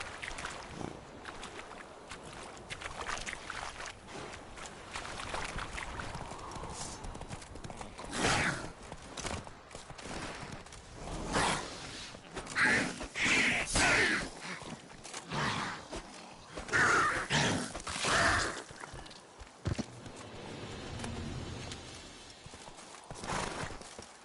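Horse hooves clip-clop steadily in The Witcher 3, with occasional whinnies and louder gallop bursts over a continuous game backdrop, fairly close and moderately loud.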